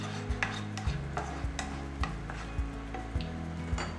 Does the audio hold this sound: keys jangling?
no